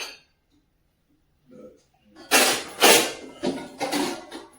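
After a brief quiet stretch, a pressure cooker is clattered about with several sharp metallic clanks and knocks, close by, with a voice heard faintly at the start.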